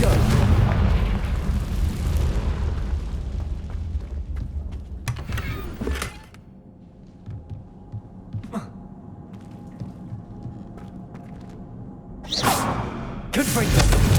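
Fiery Confringo spell blasts in Hogwarts Legacy on PS5, with a loud rumbling burst at the start, sharp cracks around the middle and two more bright explosive bursts near the end over quieter ambience.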